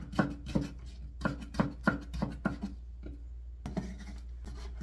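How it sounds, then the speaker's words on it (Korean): A knife julienning radish on a cutting board for Korean white kimchi, quick bursts of close, crisp chopping taps in rhythmic runs separated by brief pauses. "무는 이렇게 생채를 썰어서"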